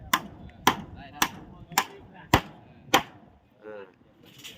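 Wood is hammered during the building of a rural Lao house, with six hard, evenly spaced blows ringing out close by, followed by quieter handling sounds.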